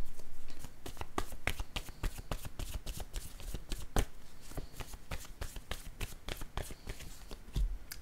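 Playing cards are handled and shuffled close up, a dense, continuous riffle of crisp flicks and taps lasting throughout, with no speech.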